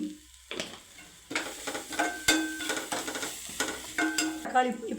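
Onion sizzles with Kashmiri chilli powder and coriander powder in a hot pan for a simple onion gravy, with near, bursty stirring scrapes and sizzle pulses coming every second or so.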